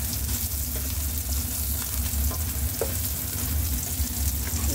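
Japanese udon noodles and beef balls stir-fried in a pan, giving a steady, loud, dense sizzle with faint scraping of the stirring throughout, close up and without voices.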